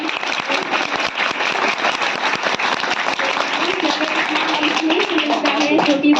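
Audience clapping at an annual school function, a dense crowd patter of many hands, loud and close, sustained throughout.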